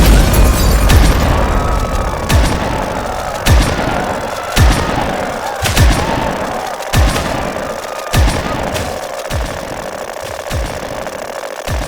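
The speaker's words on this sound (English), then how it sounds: "Grenade!" Grenade blasts and heavy gunfire in Halo: The Master Chief Collection, a loud continuous battle with repeated booming impacts roughly every second over a dense roar of combat.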